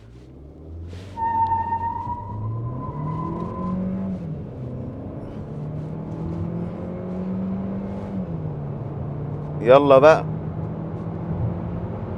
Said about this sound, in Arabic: المره دي هفصل الاي اس سي مره كمان، بس هدي للعربيه بوست اعلى شويه